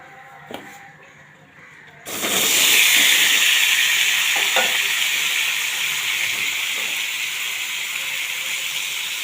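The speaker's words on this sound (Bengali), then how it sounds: "পনিরের মধ্যে ধনেপাতা পেস্টটা অল্প লাগিয়ে দিয়েছি, এখন একসাথে ভেজে নেব কড়াইয়ের মধ্যে" Paneer coated with coriander paste drops into a hot wok and starts a loud, sudden sizzle. The steady frying hiss carries on alone after a quiet opening tap or two.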